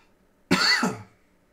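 One person coughs once during a baseball card box break. The cough is a single rough burst lasting about half a second, close and clear against a quiet background, with no speech.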